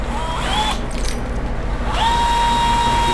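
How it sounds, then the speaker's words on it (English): A power drill whines steadily at a high pitch, cuts out for about a second amid rough grinding, then spins back up and runs on loudly and close. "Speed the drill up."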